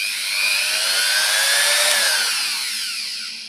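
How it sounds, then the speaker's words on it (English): A steady, high-pitched whine of an electric drill running at a constant low speed, close and loud, slowly fading toward the end. "I'm going to be drilling into the right spot"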